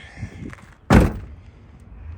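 A single solid Nissan 350Z car door shut, a loud close thunk in the middle, with quiet faint rustling before and after.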